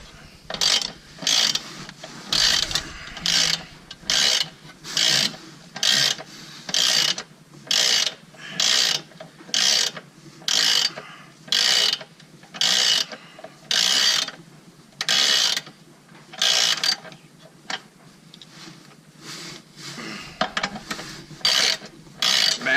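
A socket wrench ratchets a stiff lock nut off a Kubota L4060 tractor in quick, close clicking bursts that repeat roughly every second, with short pauses between strokes.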